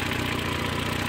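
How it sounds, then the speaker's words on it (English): A 1977 Honda Civic CVCC hatchback's carbureted 4-cylinder engine idles close by, a steady, even mechanical thrum with a fast regular pulse and no voices. "Motor's still running. This is the inside of the Honda 4-cylinder CVCC engine."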